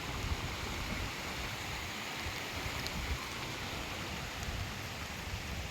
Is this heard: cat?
no